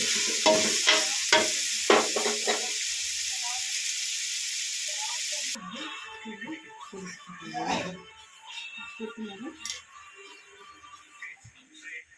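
Food fries in a pan with a loud sizzling hiss and stirring scrapes that stop partway through, after which a person talks over softer clinks.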